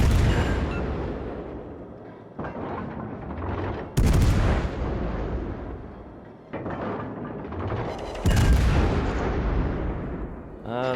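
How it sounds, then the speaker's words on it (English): USS Des Moines cruiser main guns firing armor-piercing shells in World of Warships: loud, heavy booming salvos land every couple of seconds, each followed by a long rolling rumble that overlaps the next. "Fire on the designated target."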